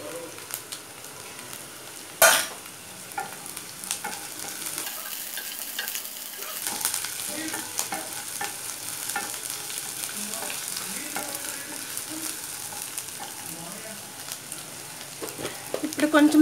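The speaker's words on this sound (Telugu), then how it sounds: "ఎండుమిర్చి యాడ్ చేస్తున్నాను." Dried red chillies frying and being stirred in a pan for aloo kurma, a steady close sizzle with spoon scrapes and clatter, one sharp clank early on, no talking.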